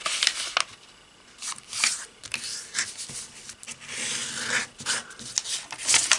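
Sheets of square paper creased and flattened by hand for an origami bowl, a run of crisp rustles and soft scraping swipes coming and going at close range with no talking.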